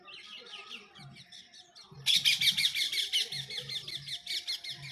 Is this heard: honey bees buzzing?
no